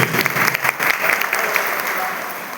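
An audience gives loud, sustained clapping in honour of Babasaheb at a women's self-help group gathering in Chhattisgarh. The applause is dense and close and fades slightly toward the end.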